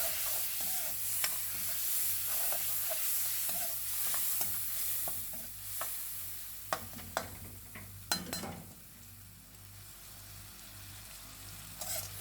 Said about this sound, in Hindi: इसी के साथ इसमें हम डाल देंगे नमक, लाल मिर्च पाउडर, हल्दी, और इसे अच्छे से चला देंगे।